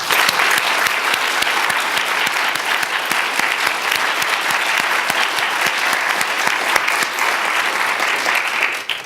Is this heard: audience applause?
yes